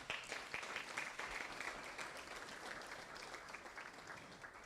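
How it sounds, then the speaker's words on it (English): Applause from guests at a Christian counseling center's evening banquet, a steady wash of many hands clapping at moderate distance, fairly quiet and sustained throughout without talk. "I want you to give yourselves a round of applause this evening."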